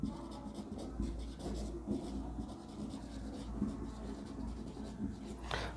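A pen scratches out notes on paper during a biology lecture, with soft, close strokes arriving in short irregular bursts in a quiet room.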